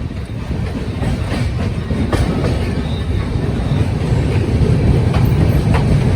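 The Ahmedabad–Somnath Intercity passes close by on a parallel track beside the Yoga Express, with steady clickety-clack of wheels on rails, a continuous loud roar filling the whole stretch.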